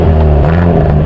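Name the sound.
2022 Hyundai Elantra N exhaust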